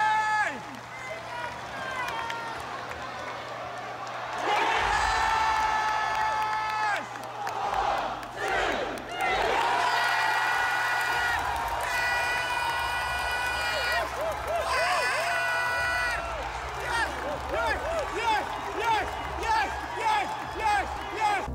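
Wrestling arena crowd in the UK roars and cheers in repeated loud surges, with whoops, rhythmic chanting and scattered clapping echoing through a large venue, a voice occasionally heard over the din.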